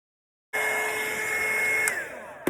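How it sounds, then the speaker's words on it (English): A cheap heat gun blows steadily, shrinking plastic wrap tight around a skinny sublimation tumbler; a loud continuous whooshing hum with a whining tone that starts abruptly, holds for about two seconds, then dips at the end. "this is where your heat gun is going to hug your shrink wrap"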